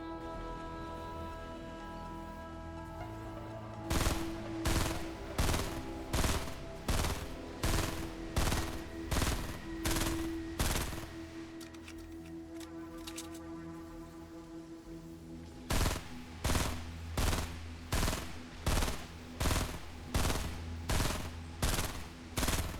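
Assault rifle gunfire in Fortnite, fired in evenly spaced, sharp shots in two long volleys separated by a pause, crisp and loud over a faint background hum.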